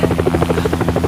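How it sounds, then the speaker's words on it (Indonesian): A helicopter approaches in the film Crawl, its rotor beating in a loud, fast, steady chop that sounds close. "Saat mereka melihat ada helikopter yang datang"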